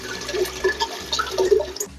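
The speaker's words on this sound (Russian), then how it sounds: "Берем и сливаем в пустую кастрюлю." Water poured from glass jars into an empty pot while pickling tomatoes, bubbling and splashing in short gurgling bursts, close and clear with no talk.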